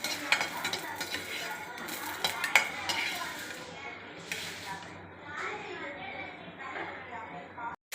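Garlic and tamarind sauté in a pan with spoon clinks and scrapes against the metal over a light sizzle, while a voice talks nearby.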